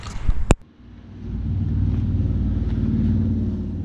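A Merkur XR4Ti turbo engine cranks with a short sharp burst, then catches and settles into a steady, rough low idle that holds close and loud with no talk.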